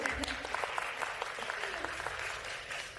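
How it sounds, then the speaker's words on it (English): Audience at a symposium plenary applauds, a steady wash of many hands clapping at moderate volume with occasional crisp single claps, easing slightly toward the end. "Much louder applause sounds good too."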